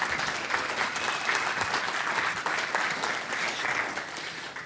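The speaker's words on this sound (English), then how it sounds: "you might want to applaud for him" Audience applauding at a software technical conference talk, a steady wash of many hands clapping that holds evenly from start to finish without any voices.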